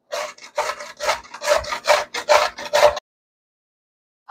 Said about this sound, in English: I'm gonna grate this up.